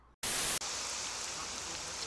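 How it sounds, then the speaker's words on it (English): Steady rain in the STALKER video game, a dense, continuous hiss that starts abruptly after a brief gap and holds evenly with no talking. "It's a rainy evening."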